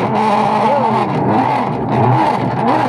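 Washing machine with a worn pulsator gear running loud and close, a continuous grinding, whirring drone with wavering pitch and no break.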